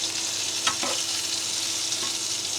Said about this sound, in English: Just going to give these a quick stir.